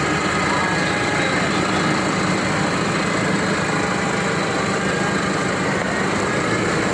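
A 2024 tractor engine runs steadily and loud close by, a continuous buzzing drone that fills the whole stretch without pause, with a possible voice beneath it.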